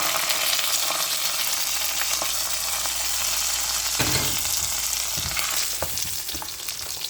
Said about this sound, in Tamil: ஸோ இப்போ நம்ம டெம்பரிங்கும் ஊற்றிட வேண்டியது.